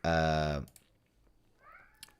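A cat lets out one long, loud, close meow indoors, followed by soft keyboard clicks and a faint, brief second mew.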